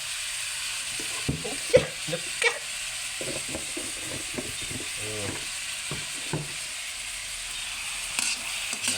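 Beef stir-frying southern Thai style in pressed oil, a continuous close sizzle broken by rapid scraping and clattering of a spatula against the pan, bursts of busy stirring, no talking.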